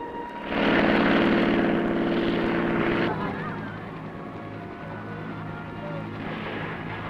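Army helicopters in the Vietnam War give a loud, broad rumbling roar that eases and then lingers under a narrator's voice.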